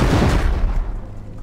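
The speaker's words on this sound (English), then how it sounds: "That's proper rockets." Rocket explosions in Rust, a loud booming blast already underway at the start that rumbles and fades away over about a second.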